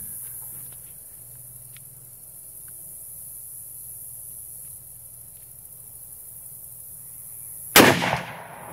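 Quiet outdoor ambience with faint insect chirps gives way near the end to a single sharp, loud gunshot from a Henry .30-30 lever-action rifle, with a brief echoing tail.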